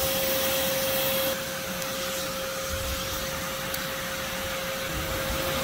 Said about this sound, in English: We just let the vacuum run for a spell.